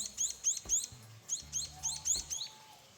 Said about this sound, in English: We can hear them. See, they're like making that tweet.